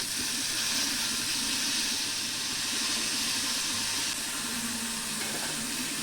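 Rice fried in ghee with cloves, cinnamon and cardamom for keshari bhaat sizzles in a steady, even hiss, close and continuous without a break.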